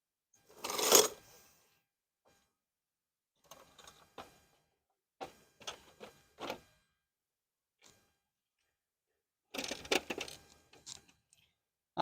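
Tools tighten parts on the front end of an old OBS Chevy truck: a loud clunk, then short, sparse bursts of ratcheting clicks separated by quiet pauses, with a denser burst near the end.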